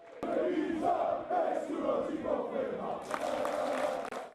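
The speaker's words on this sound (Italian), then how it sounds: "Spalti pieni di bandiere e cori nello stadio comunale della piccola frazione friulana" Around a thousand football fans chant and sing together in a small Friulian village's municipal stadium, a loud, continuous crowd roar with rhythmic sung chants that swells brighter near the end.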